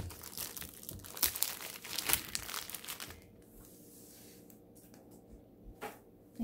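Plastic packaging bag holding a four-pack of diamond painting kits being opened by hand, with loud crinkling and tearing bursts for about three seconds, then quieter occasional rustles.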